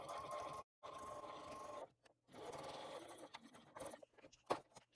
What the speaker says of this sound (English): Sewing straight down this side.